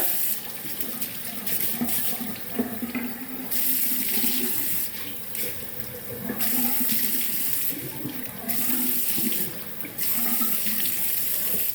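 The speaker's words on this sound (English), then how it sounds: "I'm going to rinse that again with lukewarm water." A bathroom tap runs steadily with lukewarm water while a face is rinsed. The flow is interrupted several times by brief splashing as hands cup the water, then resumes, close and fairly loud.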